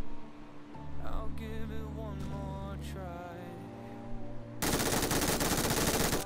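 In the battle royale game BGMI, a dense, loud burst of rapid gunfire erupts near the end, following a stretch of droning engine-like and musical tones.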